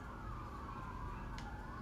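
A faint siren wails steadily in the distance over a low background rumble, with one short click near the end.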